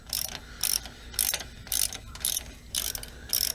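A ratchet wrench loosens a small battery hold-down bolt on a Toyota Corolla, giving seven short bursts of crisp clicking in a steady rhythm, close and fairly loud, with no talk.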